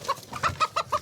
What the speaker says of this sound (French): Ce sont des coqs d'ornement, des bêtes à concours.